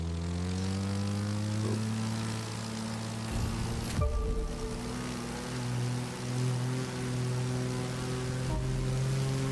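Propeller engine of an aerobatics plane in the racing game The Crew 2, a loud sustained drone with a strong steady pitch that briefly drops and surges around the middle before settling back into a continuous roar.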